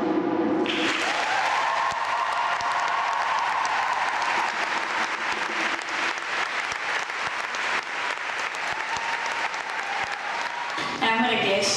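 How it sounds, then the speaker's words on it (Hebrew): Audience applause in a church after a choir concert, a steady wash of clapping under a voice speaking over it, continuing for several seconds. "בחיים לא מחאו לנו כל כך הרבה כפיים."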